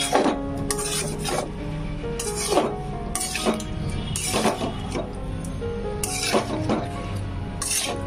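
Vegetables for navratan korma are stirred in a pan, with a steady scraping, rasping spoon against metal and repeated clinks throughout, close and fairly loud, with no talking.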